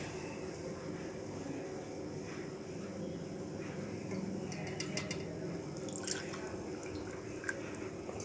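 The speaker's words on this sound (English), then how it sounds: "I'm just pouring the coffee." Hot coffee is poured into a cup with a soft, continuous liquid trickle and a few faint drips, quiet and close, over low background hum.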